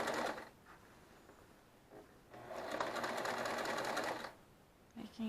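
A sewing machine stitches quilt blocks together in short bursts, its rapid, even mechanical chatter starting and stopping with quiet pauses between runs.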